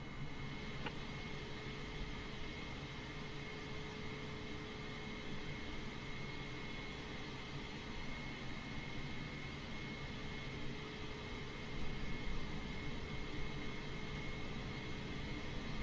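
Airliner on pushback by a tug at Chicago O'Hare, a steady faint roar of engines and machinery with no change in intensity.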